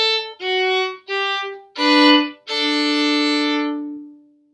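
Fiddle playing a Cripple Creek variation with double stops, five bowed notes sounded close and clear, the last one sustained and fading out, with no voices.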